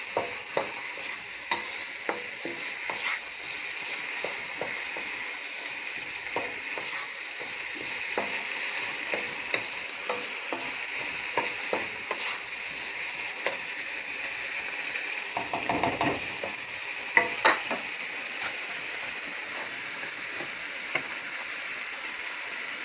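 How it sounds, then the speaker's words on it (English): Brown sugar caramelizing in a pan, a steady sizzle and fry with repeated scraping stir strokes throughout, close and moderately loud, no talking. "sprinkle your brown sugar over that. And you're just going to give it a good stir, and you're going to let that caramelize."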